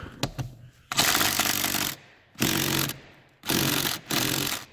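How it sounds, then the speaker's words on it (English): A cordless power drill whirs in several bursts, high-pitched and close, stopping and starting with short gaps between runs, while working on a car's seat belt buckle switch. "Hook up my drill again"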